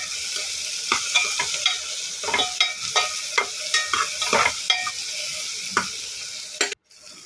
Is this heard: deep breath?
no